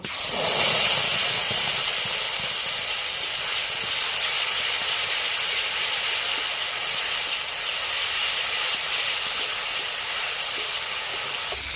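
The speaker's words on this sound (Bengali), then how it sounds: "এবারে আমি মশলা ভেজে নেব।" Continuous bright hiss of spice paste frying in mustard oil with black and white cumin, a steady loud sizzle that swells slightly at the start and holds evenly throughout.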